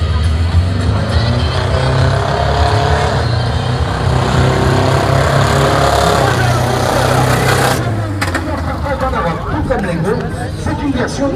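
A monster truck at a stunt show in Angoulême, a Honda four-cylinder, 16-valve, 150-horsepower four-wheel-drive machine, roars loudly and continuously close by, easing slightly near the end, with crowd chatter and voices mixed underneath.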